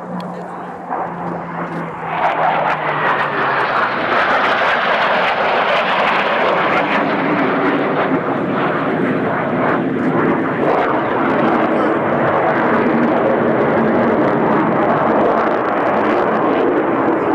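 Blue Angels jets roar overhead during the opposing knife-edge pass at an air show, the engine noise swelling after two seconds into a loud, sustained broadband rush that holds to the end.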